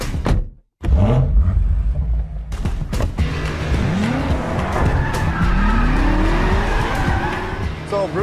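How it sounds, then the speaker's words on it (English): A brand-new 2018 BMW M5 is driven hard, its engine roaring loud and close while the tires squeal and skid through repeated slides, with a brief cut to silence near the start. "That's the brand new BMW M5, never seen in public until now. Certainly has the looks to be in an Need for Speed game, but how does it drive?"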